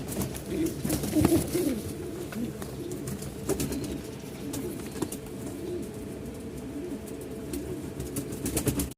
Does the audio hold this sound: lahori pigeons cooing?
yes